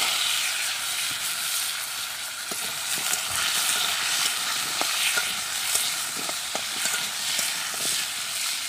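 Cut potatoes and cumin seeds sizzle in hot oil in a village-style kitchen, a steady frying hiss broken by scattered pops and crackles, fairly close and without talk.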